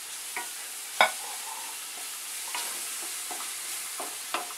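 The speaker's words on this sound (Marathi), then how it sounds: "आता हे 2 चमचे आलं आणि लसूण पेस्ट आहे, हे चांगलं आता भाजून घ्यायचं।" Ginger garlic paste frying in a pan with turmeric, a soft continuous sizzle with a handful of distinct spatula scrapes and taps spaced irregularly, close up and with no voices.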